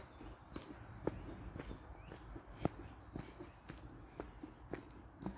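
Footsteps crunching through forest ground, a steady uneven walking rhythm of soft thuds with a few sharper snaps, close by over a faint outdoor hum and an occasional distant bird.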